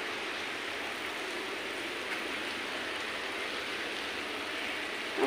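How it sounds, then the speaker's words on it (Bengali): Heavy rain falls outside as a steady, soft hiss of dense drops, an even wash of noise with no pauses or talking. "বাইরে প্রচুর বৃষ্টি পড়তেছে।"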